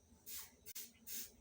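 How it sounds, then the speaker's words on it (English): Spray bottle misting water onto hair, two separate bursts of hissing spray, each about a third of a second long, close and fairly quiet with a short pause between them. "First, I use this spray bottle. I put water to first make my hair a bit"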